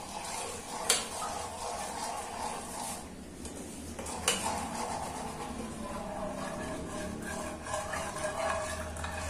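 A spoon stirs a jelly powder mixture in a metal pot, scraping and clinking steadily with a couple of sharper knocks against the side, close and moderately quiet.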